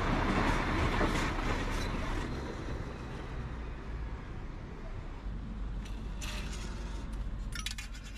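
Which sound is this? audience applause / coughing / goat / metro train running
metro train running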